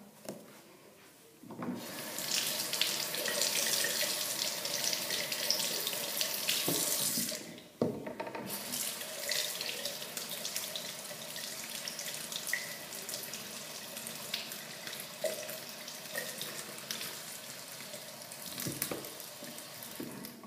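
Hot water runs steadily from a kitchen tap into a sink, a loud continuous rush that briefly stops near the middle and then resumes with some handling and splashing sounds, no talking.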